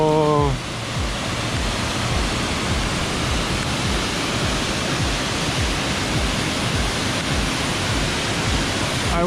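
Roaring waterfall heard up close, a loud, unbroken broadband rush of falling water that holds steady for the whole stretch, with a brief voice at the very start and end.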